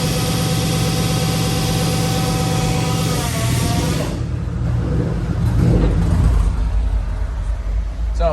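A 3UZ V8 swapped into a Nissan 240sx runs roughly, its steady engine drone loud and close for the first half, then shifting to a lower, rougher idle with some clunking in the second half.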